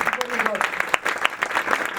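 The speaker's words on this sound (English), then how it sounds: "Please join me in a round of applause to thank them." Applause from guests at an annual lunch at Ronnie Scott's, a dense patter of clapping with a few sharper claps, steady and fairly close, with some voices mixed in.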